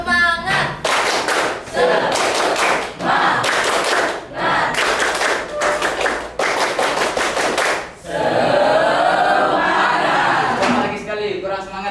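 A standing group claps a rhythmic spirit cheer in a classroom, loud sharp bursts in a patterned beat, then a stretch of mixed crowd noise and voices near the end.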